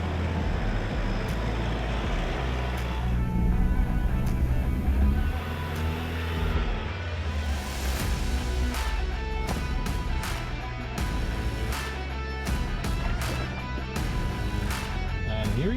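A Ford Everest 4x4 climbs a hill at an off-road park, its engine a low, labouring rumble at moderate distance, with intermittent clicks and knocks as it works over the terrain.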